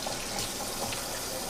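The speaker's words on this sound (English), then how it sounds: "Put some lukewarm water on." A kitchen tap runs lukewarm water in a steady, close, continuous rush with no talking.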